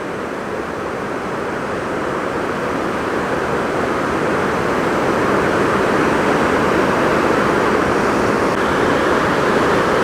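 Water pours steadily from a waterfall on the north shore of Lake Superior, a broad, continuous rushing wash that stays close and loud throughout with no voices over it.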